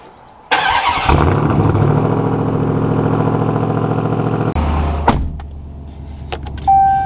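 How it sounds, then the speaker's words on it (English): The Hellcat-powered engine of a Ram TRX pickup starts cold with a loud bark, then holds a heavy, high fast idle before it drops sharply and settles, followed by faint clicks and a short whine, all close by. "every time that you cold start a TRX or any sort of like Hellcat powered vehicle"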